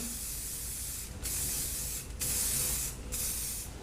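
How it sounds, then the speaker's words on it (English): Paul Mitchell Hot Off the Press heat protectant sprayed onto hair before curling with a 1-inch iron: four close, steady hissing spray bursts separated by brief pauses. "I'm going to use Hot Off the Press by Paul Mitchell"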